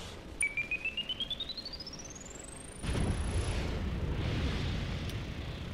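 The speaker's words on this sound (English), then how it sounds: "It was a grenade, not sure what it did" A grenade goes off in a video game: a rising whistle climbs in pitch for a few seconds, then a soft, rumbling burst follows and lingers at low volume.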